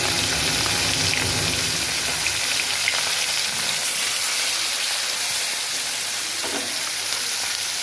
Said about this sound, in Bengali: কড়াইয়ে তেল হয়ে গেছে, মাছগুলো দিয়ে দিচ্ছি।